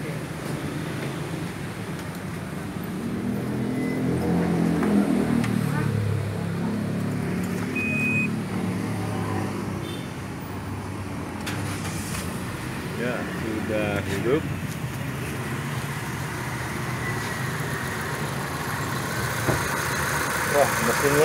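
A 2018 Wuling Cortez with a 1.8L engine idles steadily at close range, a low continuous hum with some air-conditioning hiss, while people talk over it; the start itself is not distinct.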